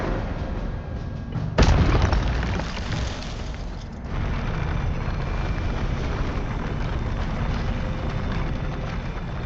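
Incendio fire spell cast in the video game Hogwarts Legacy, a sudden loud whooshing burst of flame that flares sharply and then trails off into a rumbling ambient roar.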